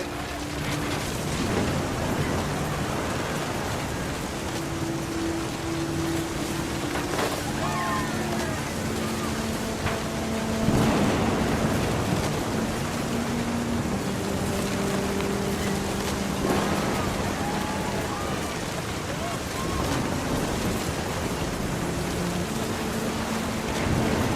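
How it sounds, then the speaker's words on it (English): Thunderstorm with steady rain in the video game What Remains of Edith Finch, a constant wash of rainfall with low rumbles of thunder swelling now and then, mixed with soft musical tones and no talking. "thunder sounded much too close and full of angry power"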